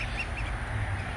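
Rouen ducks and other ducks in a backyard homestead coop quack in a steady, close chorus of repeated calls, with no talk over them.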